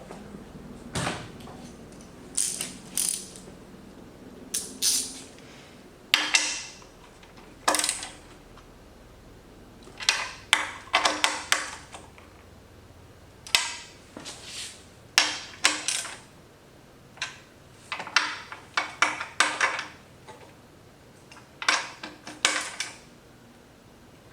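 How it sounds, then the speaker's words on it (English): Metallic clicks and ratcheting clatter from a wrench tightening fender eliminator bolts on a 2024 Yamaha MT-09 motorcycle, arriving in short bursts with pauses between them, close and moderately loud in a quiet workshop. "Go ahead and tighten these bolts and then put a wrench on them to set final torque."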